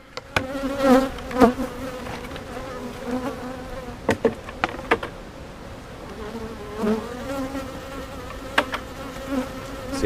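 Honeybees hum around a hive being given supplemental feed on a warm late-December day, a close, wavering buzz rising and falling as insects pass near, with a few sharp knocks between.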